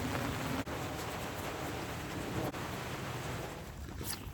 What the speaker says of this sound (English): because it's raining out here.